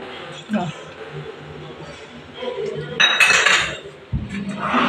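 Eggs with salt and milk beaten in a bowl, with a utensil clinking and scraping against the bowl in short bursts under people talking nearby.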